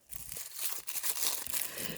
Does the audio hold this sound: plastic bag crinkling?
yes